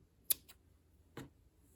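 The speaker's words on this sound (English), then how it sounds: "Now I'm just going to cut this tail off, and also from this side, cut the tail off" Scissors snip the loose yarn tail off a small crochet drawstring bag: two sharp, close cuts in quick succession, then a single cut about a second later, set against near silence.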